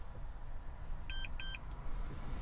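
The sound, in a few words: key programmer beeping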